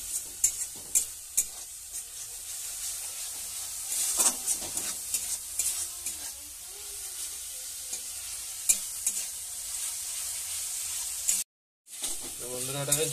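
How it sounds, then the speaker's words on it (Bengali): Soybean curry with chilli and turmeric powder frying in a pan gives a low steady sizzle under repeated light clinks and scrapes of stirring, with a brief silent gap near the end. "স্বাদ মতো লঙ্কা গুঁড়ো হলুদ গুঁড়ো দিয়ে দিলাম, দিয়ে ভালো করে কষে নিচ্ছি।"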